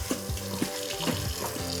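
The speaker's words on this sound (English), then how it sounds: "Sautéing all the veggies from the sofrito with the rice right now." Sofrito vegetables and rice sauté in a pot with a steady close sizzle, broken by a few soft scraping stirs.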